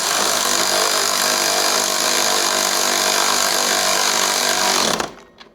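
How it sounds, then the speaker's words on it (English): A power tool runs continuously and loudly while tightening a bolt on an electric tricycle frame, a steady close whirring grind that cuts off abruptly near the end. "I'm going to do another bolt on the other side."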